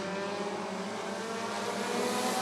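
Stock cars roar off the green flag together at Rockford Speedway, a dense, steady engine drone that swells slightly near the end, with no voices heard.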